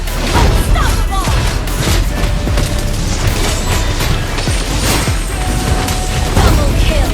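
A turret is destroyed in a Mobile Legends match, heard as dense, loud game effects with booms, crashes and clattering mechanical hits that run continuously under the game's mix.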